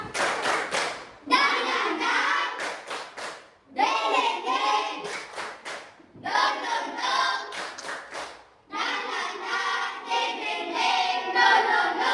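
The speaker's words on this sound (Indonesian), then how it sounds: "Tepuk semangat." A school class performs the rhythmic 'tepuk semangat' clapping chant, four loud bursts of patterned hand claps separated by short pauses, with children's voices chanting along.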